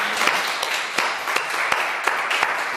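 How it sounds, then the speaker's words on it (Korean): A church congregation at a Sunday service applauds together. A broad, continuous clapping carries through, with strong unison claps landing at a regular beat roughly every third of a second. "우리 말씀 주신 주님 앞에 감사의 박수 드리겠습니다"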